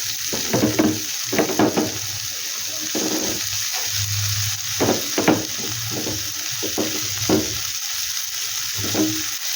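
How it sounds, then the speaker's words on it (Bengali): Carrot and cabbage fry in a little oil, a soft constant sizzle broken by repeated scraping stirs in irregular bursts, close by and with nobody talking. "একটু গাজর দিয়ে দিলাম, তার সাথে একটু বাঁধাকপি।"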